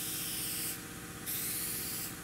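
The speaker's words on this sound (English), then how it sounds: "I'm going to go with the spray" Layout fluid dye hisses from an aerosol spray can in two steady bursts with a short pause between, close and continuous with no talking.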